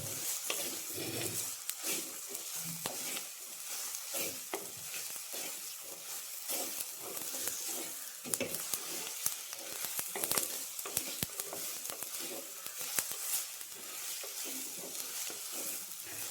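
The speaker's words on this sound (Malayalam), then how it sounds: "നന്നായി ഇളക്കായി ഈ പൊടികളൊക്കെ ഒന്ന് നോക്കണം" Chili and turmeric powders sizzle in hot oil as they are stirred, with a continuous crackling fry broken by repeated scraping strokes close by.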